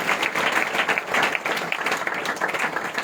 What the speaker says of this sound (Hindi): हम ताली बजाकर स्टेज पर उनका स्वागत करेंगे।